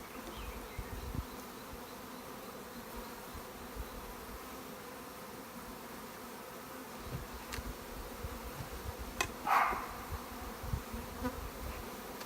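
Honey bees hum steadily around a hive, a dense, continuous buzz with a few individual bees droning closer past the listener.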